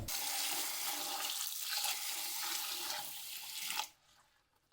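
Urad dal lentils are washed in water for medu vada, with a steady rush of running and sloshing water for nearly four seconds that then stops abruptly, leaving near silence.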